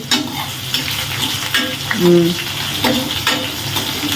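Chopped onions sizzle steadily in a pan while being stirred, with scraping strokes and bursts of crackle; a faint voice briefly sounds underneath, and faint tonal background sound runs through it.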